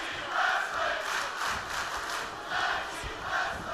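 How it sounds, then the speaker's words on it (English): A large crowd in a wrestling video game roars and cheers continuously during a tag team match, swelling and dipping in waves, with no clear voices standing out. "Crowd loving the tag team wrestling stuff going on right now"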